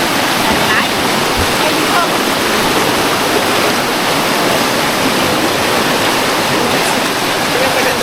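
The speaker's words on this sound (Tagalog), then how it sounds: "Ragasa guys ang tubig." Rushing torrent of floodwater pouring past, a loud, steady roar of churning water close by, unbroken from start to finish.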